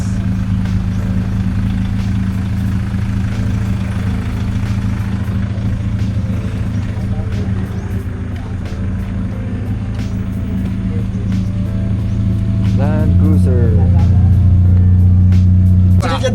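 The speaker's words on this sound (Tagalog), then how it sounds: "ilalabas ni boss yung kanyang Raptor. At syempre, ito ang ipapark sa loob" A boss's Ford Raptor pickup truck is driven out to park, its engine running with a steady close rumble and a brief rise in revs near the end, while people talk and laugh over it.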